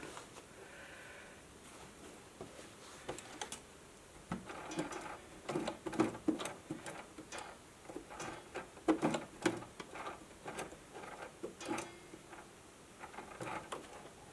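Home sewing machine making a few short bursts of stitches, rattling along in separate quick runs with pauses between, fairly quiet and close.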